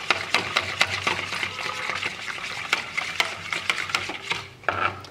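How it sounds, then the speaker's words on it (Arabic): Pastry cream and glazing sugar are whisked in a bowl to dissolve them, a busy wet rhythmic scraping and sloshing with sharp clicks of the whisk against the bowl, steady and close throughout. "غادي نخلط مزيان حتى يذوب هاد العناصر"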